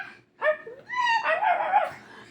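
A dog whimpers and yips in short, high-pitched whines, close by, with a brief pause before a longer run of whining.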